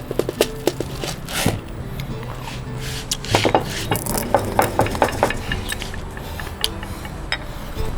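Clinks and scrapes of a utensil stirring a sauce of banana ketchup, hot sauce and pepper in a kitchen, with irregular taps against the bowl alongside a low background hum and no talking.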